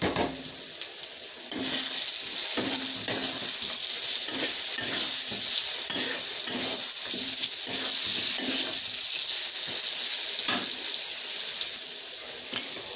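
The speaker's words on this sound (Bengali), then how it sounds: "রসুন দিয়ে অল্প, আর চিকেন ভাজতেছি অল্প।" Chicken frying in a pan with tomato, onion, garlic and a pinch of turmeric, a steady loud sizzle with repeated stirring scrapes, close up and without talk.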